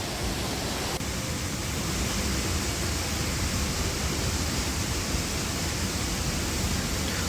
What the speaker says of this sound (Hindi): ये झरना देखिए कितना प्यारा लग रहा है ऊपर से गिरता हुआ।